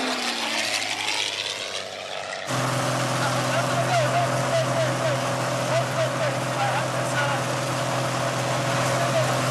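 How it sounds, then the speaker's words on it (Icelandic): A small airplane engine drones steadily in flight, a loud sustained hum with a harmonic tone from inside the cabin. It starts muffled, then turns louder and fuller after a cut, and voices talk briefly over it. "Þá var komið að Steinda að fljúga vélinni."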